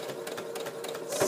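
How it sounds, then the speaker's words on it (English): A sewing machine stitching through the stuffing of a memory bear's head, its motor running in a fast, steady whirring buzz with rapid needle strokes, close and continuous for about a second. "I'm now going through stuffing, so my machine has to work a little harder."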